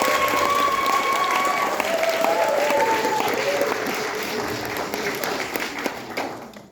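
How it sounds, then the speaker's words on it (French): Audience at a fancy fair applauding the prize winner, loud continuous clapping with crowd noise and brief voices over it, fading toward the end. "ça mérite encore des applaudissements"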